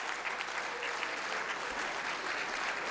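Audience at a mushaira, an Urdu poetry gathering, gives steady applause, a soft but continuous spatter of many hands clapping for about three seconds without speech.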